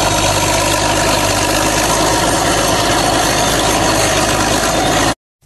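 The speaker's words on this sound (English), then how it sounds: "Bulldozer." A bulldozer engine runs loud and steady, a continuous close idle rumble with vibration that holds without change, then cuts off abruptly near the end.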